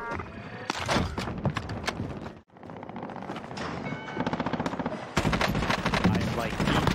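Rapid automatic gunfire rattles in Call of Duty: Warzone from a weapon fitted with an Athena scope. Bursts come close and loud with a brief gap midway, and faint game sounds sit underneath.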